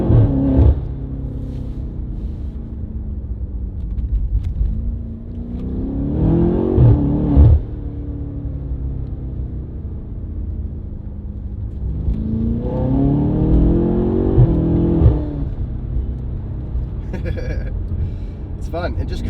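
A BMW M8 Competition with aftermarket downpipes rumbles and revs hard in two accelerating pulls, its deep engine note rising, while someone talks over it from inside the car.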